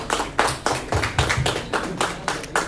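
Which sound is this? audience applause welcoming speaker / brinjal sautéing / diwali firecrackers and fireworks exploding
audience applause welcoming speaker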